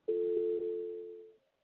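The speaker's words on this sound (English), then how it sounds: "New call, this will give you a dial tone." A single steady electronic telephone dial tone from a Jabber phone holds evenly for over a second, then cuts off, with nothing else around it.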